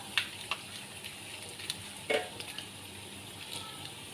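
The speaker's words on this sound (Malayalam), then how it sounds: "അത് കഴിഞ്ഞ് നമുക്ക് കൊല്ലമുളക് ഇട്ട് കൊടുക്കാം" Dried red chillies crackling in hot oil for tempering after a pinch of fenugreek, a soft steady sizzle with a few sharp pops and utensil taps.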